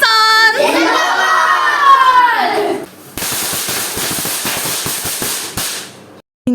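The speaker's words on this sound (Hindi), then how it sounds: "इनका तो बस नहीं चल रहा कि हम जाके बस जल्दी जल्दी पटाखे फोड़ लें" Firecrackers burst in rapid crackling volleys during Pakistan Independence Day celebrations in Islamabad, following a stretch of loud shouting voices; dense sharp pops rattle on for about three seconds, then stop abruptly.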